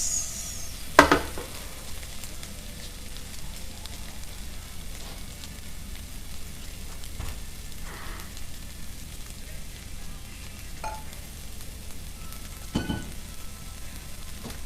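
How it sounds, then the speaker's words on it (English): Steady soft sizzling of food frying in a pan, continuous and close, with occasional sharper clinks and stirring sounds. "So, you guys hear the sizzle?"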